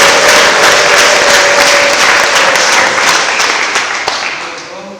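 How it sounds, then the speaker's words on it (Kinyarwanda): A church congregation bursts into loud, sustained applause after a sermon, the dense clapping filling the room and tapering off slightly toward the end. "Tuyikomere amashyi"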